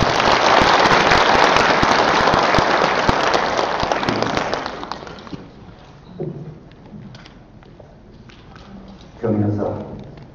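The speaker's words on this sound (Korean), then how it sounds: "역시 큰 박수로 모시겠습니다." Loud, dense applause from an audience at the opening ceremony of an international Buddhist academic conference greets the head of the Jogye Order of Korean Buddhism, then fades after about five seconds, leaving quiet room sound and brief speech.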